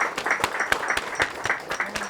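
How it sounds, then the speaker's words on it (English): A short burst of audience applause at a speaker event, with individual claps standing out clearly in a loose rhythm from a modest group, about two seconds long. "I want to give Gene Powell an applause"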